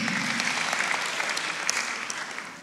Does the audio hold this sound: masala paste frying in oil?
no